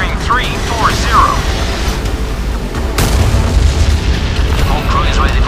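An incoming missile explodes in the SMX-31 submarine video game with a sharp blast midway over a constant deep rumble, while chirping electronic tones and voices sound in the background.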